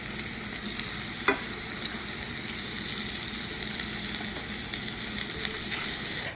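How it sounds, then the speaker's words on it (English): Chicken piccata pieces sear in a crowded pan, a steady close sizzle and crackle running the whole time with one sharper pop early on and no talking. "let it sear on each side for about 3 minutes. That way it can get nice and golden brown."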